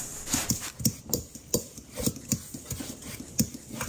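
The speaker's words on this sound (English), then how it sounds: "I'm gonna beat the butter into the sugar until it's nice and creamy" Room temperature butter is beaten into sugar in a bowl, giving a quick rhythmic scraping and tapping of a utensil against the bowl, close and moderately soft, with no voices.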